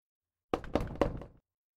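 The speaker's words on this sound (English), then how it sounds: "Three knocks, louder than before, hungrier than before." Three sharp knocks on a foggy glass window come in quick, evenly spaced succession, loud and near, out of silence and without any talking.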